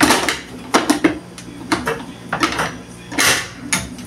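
Metallic clanks and scrapes of a pressure cooker lid being fitted and locked shut while making doce de leite in a jar, a series of sharp irregular knocks up close with quieter handling between.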